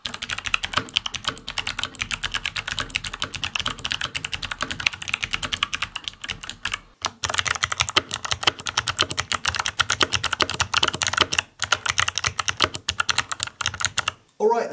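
Rapid, continuous clacking of a freshly lubed mechanical keyboard being typed on up close, with two brief pauses partway through.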